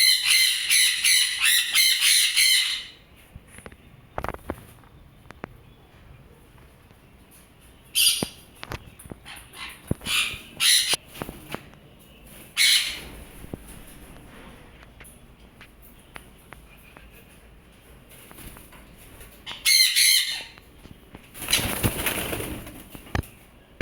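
Caged Double Red Factor sun conures let out loud, piercing squawks in harsh bursts, with quieter rustling, wing flaps and clicks in the gaps between the calls.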